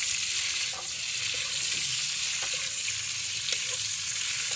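Cooking oil sizzles steadily in a frying pan, a continuous close hiss with a few faint clicks and knocks, no talking.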